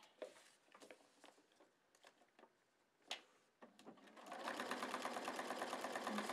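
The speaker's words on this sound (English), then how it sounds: "flip it over and sew it" A sewing machine stitches foundation paper piecing, beginning with scattered clicks and short needle taps, then settling into a steady, fast whirring run that grows louder toward the end.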